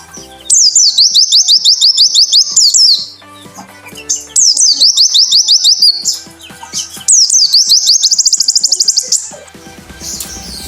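A pleci (white-eye) bird sings in three loud, close bursts of rapid, repeating high chirps and trills, each lasting a couple of seconds and separated by short gaps of quieter background.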